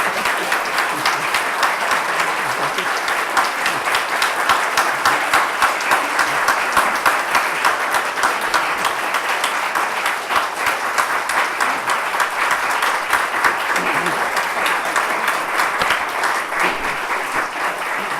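Sustained audience applause fills a lecture hall at the close of a talk on landscape architecture, dense steady clapping from many hands lasting well over fifteen seconds without speech.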